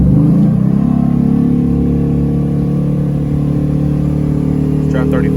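A crew cab pickup truck fitted with 4.11 gears and a posi unit accelerates, its engine droning steadily and loudly from start to finish, with a brief rattle near the end.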